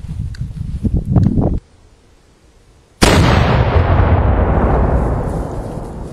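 A 3-inch bore cannon loaded with 9 ounces of FG powder fires a chain shot canister outdoors: a single sudden, very loud blast whose rumble fades slowly after a moment of near silence.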